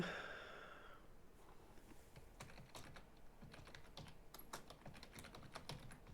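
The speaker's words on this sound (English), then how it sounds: "You hear now the keyboard" Steady typing on a computer keyboard close by, rapid clicking keystrokes in uneven bursts, with soft breathing in the background.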